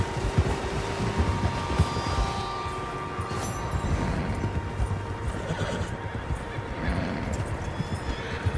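Horses in Red Dead Redemption 2 clop along steadily with occasional snorts and whinnies, hooves drumming continuously over an outdoor ambience at moderate level.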